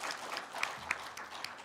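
A short burst of applause from an audience at a ceremony marking a journalists' association newspaper milestone, moderate and scattered clapping with a bit of crowd noise.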